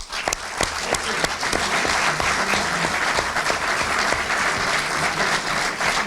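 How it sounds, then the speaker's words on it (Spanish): Dense, sustained audience applause fills a hall at a book presentation in Andosilla, loud and steady throughout with no talk over it. "Un abrazo y un aplauso para ellos."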